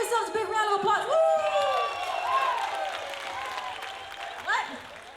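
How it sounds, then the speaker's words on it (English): An audience at the Wave Awards 2015 show claps and cheers, with high whoops and shouts rising over steady applause throughout. "Give yourselves a big round of applause."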